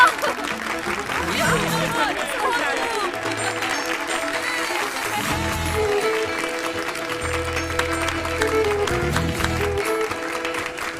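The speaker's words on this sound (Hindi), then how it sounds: "तालियां!" An audience claps in sustained applause, with a voice and tonal sounds running over and through the clapping at a moderate, steady level.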